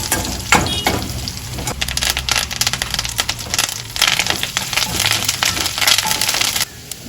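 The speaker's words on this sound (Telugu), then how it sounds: "ఇలా తాలింపు వేగుతుంది" Loud, close crackling and popping of tempering spices frying in hot oil for a drumstick-leaf curry, a dense continuous sizzle that cuts out near the end.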